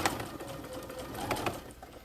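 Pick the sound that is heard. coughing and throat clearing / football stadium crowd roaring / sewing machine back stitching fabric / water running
sewing machine back stitching fabric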